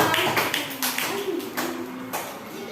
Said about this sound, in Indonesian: Berikan tepuk tangan dong untuk kelompok 5.